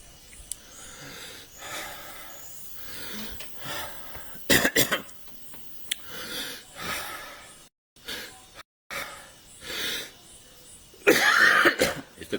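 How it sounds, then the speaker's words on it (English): Several bursts of coughing and throat clearing, with heavy breathing between them and a harsh, louder cough near the end. "It's okay to cough"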